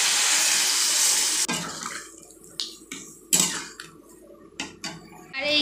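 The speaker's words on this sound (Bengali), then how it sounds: "জল দিয়ে দেবো।" Water gushes steadily into a cooking pot holding cut potato for about a second and a half, followed by scattered clinks and light knocks of kitchen utensils.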